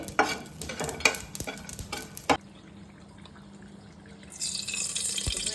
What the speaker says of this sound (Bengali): শাহজিরে, শাহমরিচ একটু হালকা লাল লাল করে ভেজে নিতে হবে।